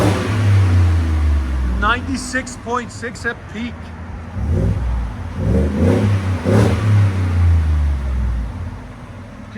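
A car's deep exhaust, fitted with a resonator, revs up sharply in several quick climbing bursts and then settles to a lower rumble, close and loud, while someone talks over it.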